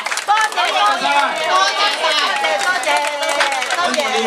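An audience claps for volunteers at a Mid-Autumn Festival elders' lunch tea gathering in Jordan, Hong Kong, with a dense patter of hands mixed with lively crowd chatter throughout.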